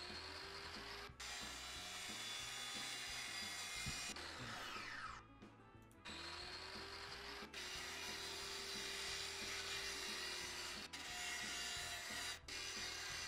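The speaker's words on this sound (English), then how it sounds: "I think the grinder, that wheel here, acts as both a like a sand remover" A grinder wheel scours sand off a tank part in Tank Mechanic Simulator while restoring a Soviet T-34/85, a steady whirring grind running throughout with a few brief cutoffs and a sweeping pitch change midway.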